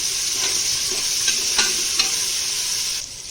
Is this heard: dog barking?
no